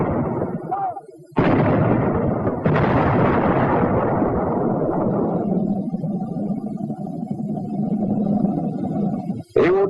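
A howitzer's high-explosive anti-tank shell bursts in a loud, close blast that rolls on into a long rumbling decay, with a second heavy boom shortly after the first.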